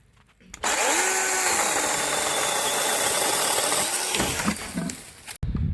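Makita DUC407 18V cordless chainsaw trimming a small piece of wood, a loud, close whine starting abruptly and holding steady for several seconds, shifting pitch as the cut finishes, then cutting off sharply.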